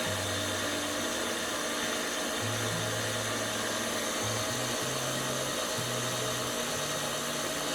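An electric hand mixer whirs steadily through butter, sugar and vanilla for cream cheese cookie dough, its motor droning continuously near the microphone with slight shifts in pitch as it works the batter.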